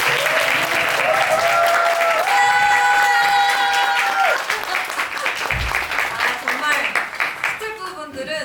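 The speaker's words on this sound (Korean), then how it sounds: "저희 스태프분들에게도 큰 박수 한번 부탁드려요." An audience claps loudly and steadily at a musical stage greeting for Le Masque, with sustained tones and voices heard over the ovation before it thins near the end.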